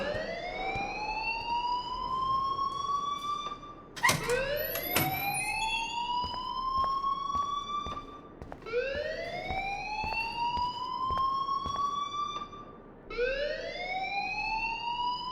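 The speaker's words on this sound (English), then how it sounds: "please turn off that alarm since that's your job" An alarm rings in the video game Life is Strange, a loud electronic tone rising and sweeping in repeated cycles, about four long upward wails in a row with no talk over them.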